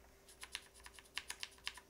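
Quiet typing on a Quantum60 mechanical keyboard build, a faint, close, uneven run of crisp key clicks over a low steady hum, no voices.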